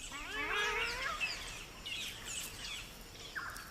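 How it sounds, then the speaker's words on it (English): Wild birds gathered at fruiting trees in Australia call in a quiet outdoor setting: a burst of rising whistled chirps followed by scattered fainter calls and a late short cry, fairly soft and distant. "The local birds gather at trees that are fruiting."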